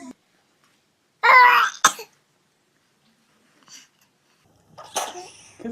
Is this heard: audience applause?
no